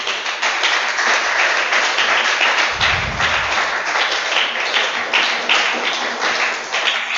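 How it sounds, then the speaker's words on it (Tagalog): Applause from a church congregation, a dense steady wash of many hands clapping throughout, loud and continuous with a brief low thump near the middle. "biglang lumakas palakpak, Sister Mikey."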